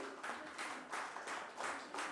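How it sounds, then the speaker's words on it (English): An audience at a fan and pet-parent meet applauds in a dense, even wash of clapping that pulses steadily, heard faint and distant for about two seconds. "Please give them a big hand, ladies and gentlemen."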